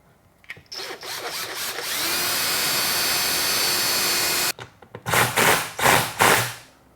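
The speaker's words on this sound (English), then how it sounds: "All right, like everything else, we want to pre-drill." Power drill pre-drilling a hole into wood while mounting a base in a garage, with a steady sustained whine of several seconds followed by a few short, loud bursts of drilling and handling noise.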